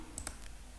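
A single faint, crisp click of a computer mouse during CAD drawing work, brief and close against a quiet background.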